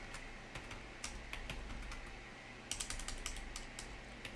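Rapid clicky keystrokes on a computer keyboard during a late-night work session, coming in uneven bursts with short pauses and a denser flurry toward the end, close and fairly quiet.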